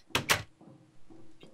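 A door opens in a video game with two quick sharp knocks of the latch and a soft creaking slide, followed by faint low thuds.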